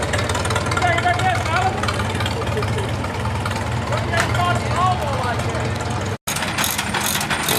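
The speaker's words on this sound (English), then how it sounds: "Here we got a nice McCormick Deering hit and miss engine turning a mill" A McCormick Deering hit-and-miss kerosene engine turning a mill, chugging steadily with mechanical clatter and rhythmic knocking, close and loud, with voices talking over it and a brief cut near the end.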